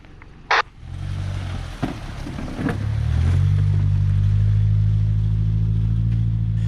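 An off-road vehicle climbs a rutted trail on a rough road, its engine rumbling low, then revving up and holding a loud, steady drone near the microphone.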